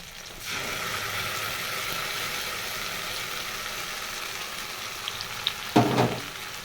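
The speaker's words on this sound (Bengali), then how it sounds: "গোলমরিচ আর লঙ্কা এটা আমি খুব ভালো করে কষিয়ে নেবো" Onion, garlic, pepper and chili spices sauté in a pan with a steady continuous sizzle that starts abruptly, followed near the end by a few louder clanks and scrapes of stirring.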